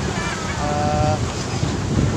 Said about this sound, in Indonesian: Satu yang berombak, ombak kencang, satu lagi yang airnya tenang.